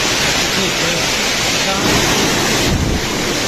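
Cold stream water flows near the hot spring kund at Badrinath, a steady broadband rush that holds close and loud throughout, with a little wind buffeting the microphone.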